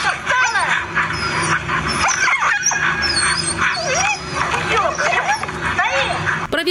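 Harnessed huskies whimper and yip near a reindeer farm, high wavering whines repeating over several seconds against a dense background, with a voice talking over them.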